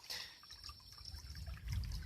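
Spring-fed water trickles and flows over stones in a lush Appalachian stream, a faint steady babble with a louder low gurgle late in the short stretch.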